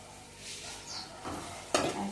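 Chili and spice tempering for a village-style Gujarati roasted eggplant chutney sizzles in a pan as water is added, rising to a sharp loud hiss near the end amid faint stirring clatter.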